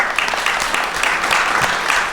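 Thin, tepid applause from the audience at a Boston public radio panel event, a steady patter of scattered claps at moderate level without speech.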